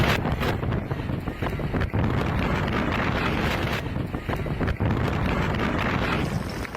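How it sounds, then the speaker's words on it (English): Strong, gusty wind roars across the microphone in rough, continuous blasts that dip and surge, loud and close throughout. "A sudden strong wind blew a trash can over, causing panic among people."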